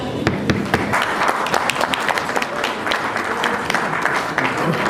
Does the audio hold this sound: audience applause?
yes